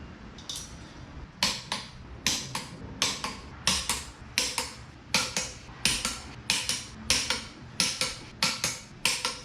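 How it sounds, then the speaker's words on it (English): Repeated ratcheting clicks from a torque wrench tightening the sprocket bolts on a 2008 Honda CBR600RR, in a steady series of short, sharp bursts, close and fairly loud, with no talking. "The bolts are going to be torqued down to 47 foot-pounds in a star pattern."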